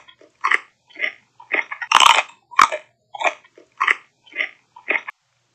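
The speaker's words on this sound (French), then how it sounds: "le petit cheval croque ce gros navet" A little horse crunches a big white-and-purple turnip in the snow, giving a series of about ten distinct, loud, close chomping bites in an uneven rhythm with short pauses between them.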